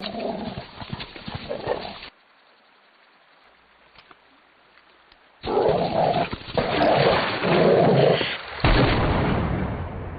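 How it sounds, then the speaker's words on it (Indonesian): Loud, harsh snarling and barking from an attacking dog comes in rough bursts, broken by a stretch of near silence partway through. "seekor anjing datang menyerang"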